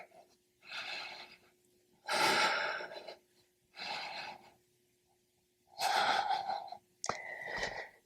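Deep, slow breaths are taken during a yoga pose, long airy inhales and exhales repeating about every two seconds, close and clear in a quiet room, with no talking over them.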